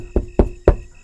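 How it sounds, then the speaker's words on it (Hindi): Three sharp knocks on a door, quick and close together, with a short pause before the third. "और तभी मुझे फिर से खटखटाहट सुनाई दी।"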